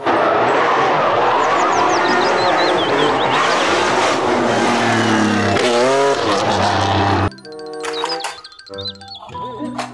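A toy race car whines and revs loudly, with tires squealing. The car then drops to quieter, intermittent noises.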